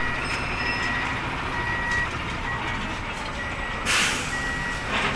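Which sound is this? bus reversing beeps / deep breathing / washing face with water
bus reversing beeps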